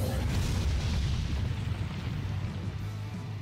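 A 5-star Full Hollow/Vasto Lorde Ichigo unleashes a strong attack in Bleach: Brave Souls: a deep, booming blast rolls on as a continuous low rumble for a few seconds, with no talking.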